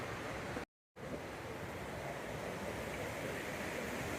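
Lake Creek, a mountain creek that runs from Emerald Lake down into the Pine River, gives a steady, loud rushing wash of water with a brief dropout near the start and no talking.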